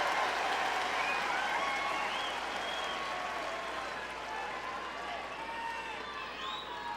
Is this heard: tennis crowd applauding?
yes